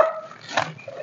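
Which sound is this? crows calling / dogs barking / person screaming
dogs barking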